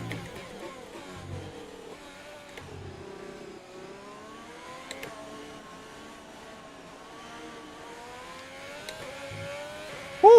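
In the F1 2020 video game, a race car accelerates hard in wet conditions at Hanoi, its engine note climbing and shifting through gears steadily for several seconds, then a sudden loud burst at the very end.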